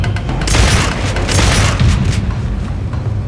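Shotgun blasts in the video game Warframe, a continuous loud booming roar close up with heavy low rumble and repeated heavy hits blending together, no talk over it.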